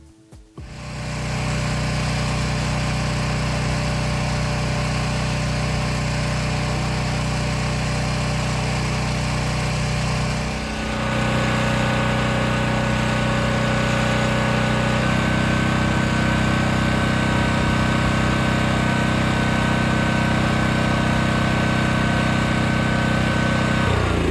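A generator at an off-grid shop drones loudly and continuously after a brief start-up clatter, its steady engine hum shifting slightly in tone partway through but never stopping.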